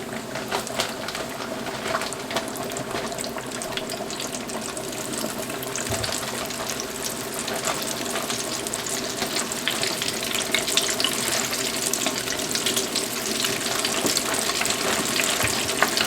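Chicken wings deep fry in hot oil at about 350 degrees, a dense, even bubbling hiss that holds steady and swells slightly toward the end, with no voices.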